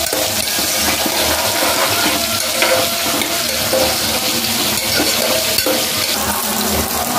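Carrots and potato frying in a pan for a bitter gourd pulao, a loud, steady sizzle with stirring scrapes running throughout, close up and without talk.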